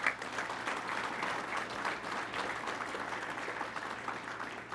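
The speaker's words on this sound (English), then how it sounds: "Let's give them a round of applause." An audience at a police union convention applauds, a steady wash of many hands clapping heard from a middle distance, sustained evenly from start to finish with no speech over it.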